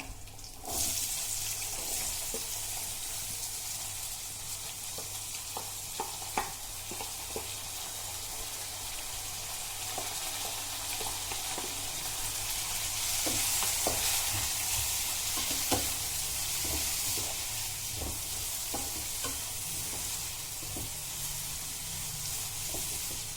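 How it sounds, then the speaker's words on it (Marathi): Onion fries in a pan with dry spices, a steady loud sizzle with occasional stirring scrapes and clicks throughout, and no voices. "कांदा छान परतून घेऊया तांबूस रंग येईपर्यंत"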